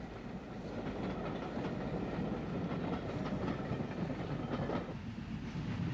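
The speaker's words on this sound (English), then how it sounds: "a WT working bunker first heads out of Coleraine with the train for Portrush" A WT class steam tank locomotive running bunker first hauls a passenger train out of Coleraine toward Portrush, a steady rumbling roll with wheel clatter and chuffing, heard alone at moderate distance.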